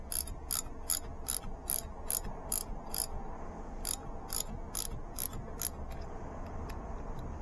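A ratchet-style torque wrench tightens differential bolts on a Nissan R50 Pathfinder's H233B limited-slip rear differential, a run of crisp, evenly spaced clicks in two bursts, close and fairly loud over a quiet workshop background.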